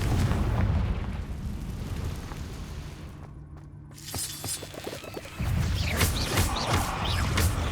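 A Confringo fire spell in Hogwarts Legacy goes off with a loud booming crash and shattering debris, dense and rumbling at first, dipping briefly, then swelling again with a second heavy blast.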